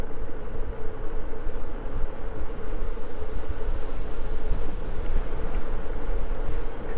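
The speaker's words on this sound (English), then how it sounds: "Pretty windy." Steady wind roars and buffets a microphone, a continuous low rumble with no pauses, loud and close.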